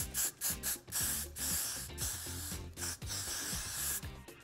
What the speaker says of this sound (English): and we'll spray